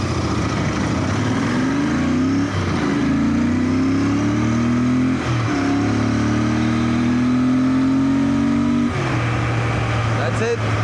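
A car fitted with a Way2Speed booster plug accelerating hard, its engine note climbing through several gear changes in loud, close, repeated rising sweeps.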